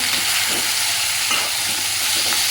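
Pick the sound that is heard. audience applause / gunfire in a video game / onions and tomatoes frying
onions and tomatoes frying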